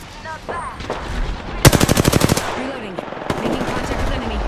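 Apex Legends machine gun fire: a rapid burst of about a dozen loud, evenly spaced shots in the middle, with a second, fainter burst after it, over game sounds and speech.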